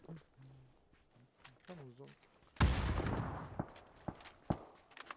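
Video game gunfire: a sudden loud burst of shots, then scattered sharp single cracks, with a voice talking briefly beforehand.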